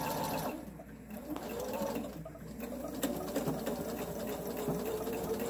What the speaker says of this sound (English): And sew right off.